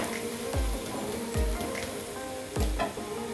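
Methi paratha frying in oil on a hot pan over medium flame, a steady close sizzle broken by three soft low thumps as the flatbread is pressed and flipped.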